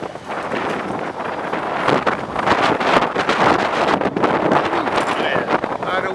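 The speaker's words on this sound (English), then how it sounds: "A lot of wind today." Strong wind buffets the microphone in a steady, gusting roar that swells and never lets up, recorded outdoors.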